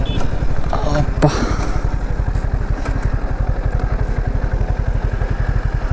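Motorcycle engine idling close by at a steady, even pulse with a brief clatter near the start, paused near Kodiveri on an Erode to Hasanur ride in foggy evening weather.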